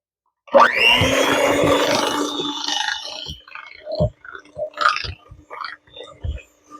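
Electric mixer blending sugar cookie dough in a bowl: a loud, steady motor whir starts abruptly and runs for about three seconds, then cuts off, leaving scattered knocks and scraping of the bowl.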